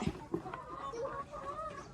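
Hens cluck softly nearby during egg gathering, short throaty calls recurring under quiet background talk.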